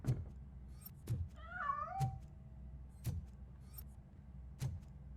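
A cat meows in the RoboCop: Rogue City video game, a single wavering, rising-and-falling meow near the middle, set against a low game ambience punctuated by sharp periodic clicks.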